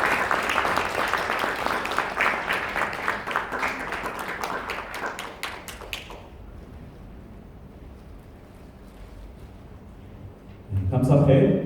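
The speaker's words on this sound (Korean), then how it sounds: "한 박수 부탁드립니다." A crowd at a Korean anniversary ceremony applauds loudly for about six seconds during an award plaque presentation and the clapping stops, then a quiet room before a voice begins speaking.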